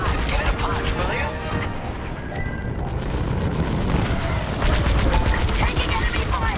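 Space combat in Star Wars Squadrons: steady heavy blaster and cannon fire with booming impacts and mechanical rumble, loud and continuous, swelling louder near the end, with no speech.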